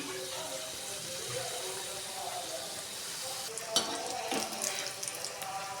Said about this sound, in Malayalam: എണ്ണ ഒന്ന് ചൂടായി വരുമ്പോൾ നമുക്ക് അതിലേക്ക് നമ്മുടെ ഓരോരോ റോളായിട്ട് ഇട്ട് കൊടുക്കാം